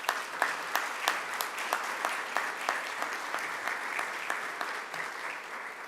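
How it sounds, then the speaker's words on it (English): Audience claps for award winners at a high school grade 10 prize-giving, a soft, steady patter of many hands with a few sharper individual claps standing out, heard alone without talk. "We can give them a round of applause."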